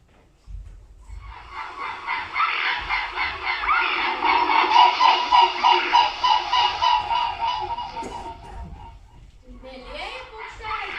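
Wild white swans give a long series of loud honking calls in close, rhythmic bursts that fade out, then a brief further call at the end.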